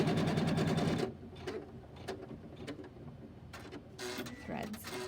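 A sewing machine stitches a quilt block in a fast, steady mechanical rattle for about a second, then stops, leaving quiet room sound with faint clicks and a few later short bursts of noise.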